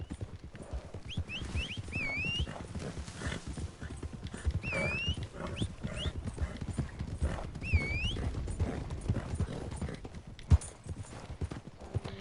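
Steady clip-clop of horse hooves at a trot in Red Dead Online, close and continuous, with a few short whinnies and a bright chirping call over the rhythm.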